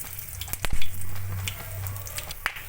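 Whole coriander seeds hit hot oil already holding cardamom, cloves and cinnamon, giving a soft close sizzle and crackle with a few sharp pops and a faint low hum beneath.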